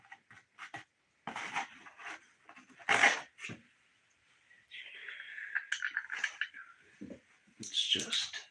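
Dog whimpering and panting at night, with soft whines and breathy pants scattered among people talking and occasional clatter nearby.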